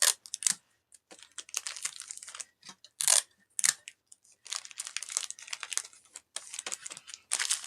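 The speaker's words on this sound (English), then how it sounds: "So we're going to take 2 Reese's. We're going to tape them together." Clear tape pulled and pressed to bind two Reese's peanut butter cups together for a candy Easter basket, heard as close, irregular crinkly bursts of tearing and crackling with short pauses between.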